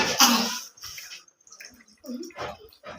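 Water is poured in a steady stream during a school science demonstration of a charged balloon bending the flow. A brief splashy hiss comes at the start, then a person talks.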